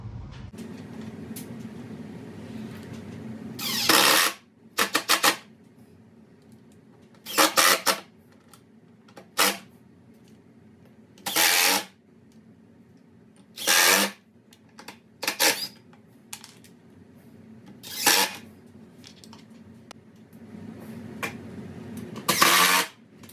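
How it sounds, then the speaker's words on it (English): A power drill drives screws to fasten casters onto a wooden hardware organizer storage unit: about eight short, loud whirring bursts, each roughly a second long, separated by quiet pauses with faint background hum. "Got our holes pre-drilled for our casters, so we'll go ahead and screw those on now"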